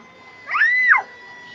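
A small child imitates a cat, giving one drawn-out rising and falling meow near the microphone, with quiet room tone before and after.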